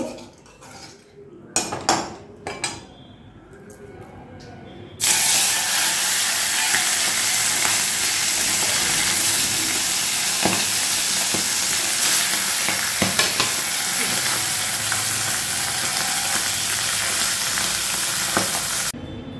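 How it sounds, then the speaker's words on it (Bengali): Small fish (chara pona) frying in oil in a pan, a loud continuous sizzle that bursts in after a few scattered clinks and scrapes of a utensil, then holds steady and close with occasional metal taps. "এবার বাকি মাছগুলো ভেজে নেব।"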